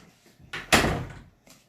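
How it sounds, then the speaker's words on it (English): Door being closed indoors: a short swish followed by a solid thud as it shuts, fairly close, with faint quiet sounds before and after. "Close the door."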